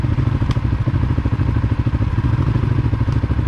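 Close-up idle and low revving of a CFMOTO CForce 400 ATV engine with a clutch kit, a rhythmic pulsing chug with light clatter and whir, steady and near throughout with no talk.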